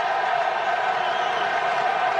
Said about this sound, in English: Rapturous applause,